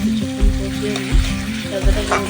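Mushrooms sauté in a spicy masala with a loud, close, steady sizzle, and a few rhythmic scraping thumps come from the stirring.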